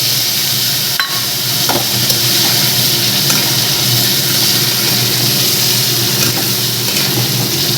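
Potatoes sizzle loudly and steadily in hot oil in a pan, with a few soft stirring scrapes and taps as spices are added, close up and alone without voices.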